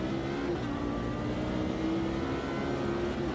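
Race cars on the final lap in Automobilista 2, a continuous loud engine drone with steady high revs and no speech.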